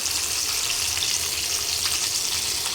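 Chicken strips for tandoori chicken strips sizzle steadily in hot oil, a dense, even crackle with no talking.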